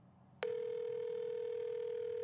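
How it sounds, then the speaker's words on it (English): A telephone handset gives a click and then a steady, continuous tone, close and clear, with no voices over it. "the phone just rang"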